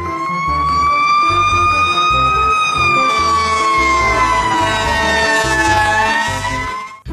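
A toy fire truck gives off a loud, continuous wailing siren that rises and falls slowly, with a rhythmic pulsing underneath and no talking.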